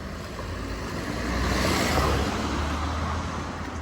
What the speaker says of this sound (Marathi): बाजू गाडी आली हो, हो, बाजू